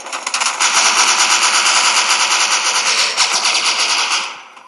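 Sustained automatic AK-47 fire in the shooter game Bullet Force, a loud, dense rattle of rapid shots running for about four seconds before trailing off.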